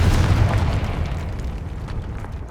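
A Confringo blasting spell explodes in Hogwarts Legacy, a loud deep boom right at the start that rolls into a long rumbling decay and fades over a couple of seconds, with no voices.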